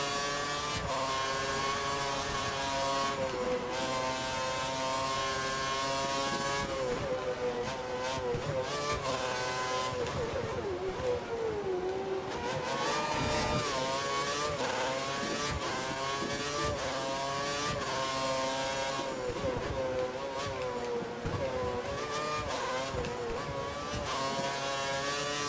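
An F1 racing car engine in the F1 2013 video game, revving up and down steadily as the car takes corners with understeer; the loud, continuous engine whine rises and falls throughout, with no talking.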